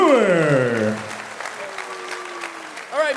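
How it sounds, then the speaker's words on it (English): Live audience applauding at a Gillette Stadium podcast taping, a burst of clapping that fades after about a second, with voices and a brief cheer following. "Guys, round of applause for Mike."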